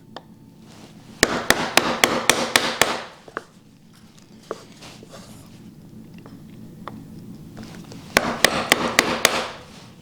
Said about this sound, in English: just do a little preliminary chop first before setting the chisel in the gauge line and chopping down